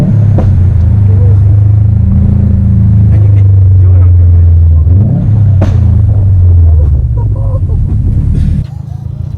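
A Subaru STI with a Protuned exhaust burbles and revs loudly up close, the engine note rising and falling through a downshift with a few sharp pops; a voice talks briefly over it near the end.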